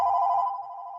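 A telephone ringing in a brewery business setting: a single steady electronic ring tone that fades slightly after half a second, heard clearly on its own with no talk.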